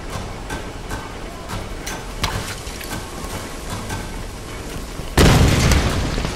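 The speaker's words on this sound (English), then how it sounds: "Dude throwing dynamite" A dynamite blast in the Tomb Raider video game erupts as a single loud, broadband boom near the end, rumbling on after steady background game noise with scattered small clicks and thuds.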